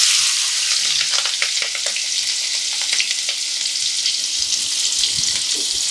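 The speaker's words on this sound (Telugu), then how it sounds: "ఇప్పుడు వేస్తున్నా ఆయిల్లో" Half a kilo of chicken with sliced onions and three green chillies fries in hot oil, a dense, continuous crackling sizzle that stays loud and close throughout with scattered pops.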